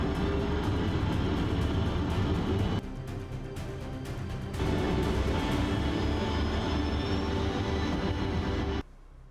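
A loud jet aircraft rumbles and roars through a takeoff run in a demo on a Sony Bravia Projector 7, a steady broadband roar that dips briefly midway, swells again with a faint rising whine, then cuts off abruptly near the end.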